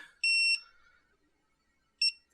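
An Emax Tinyhawk drone transmitter gives its low-battery warning: two shrill electronic beeps, a longer one then a short one about two seconds later, clear and close in a quiet room.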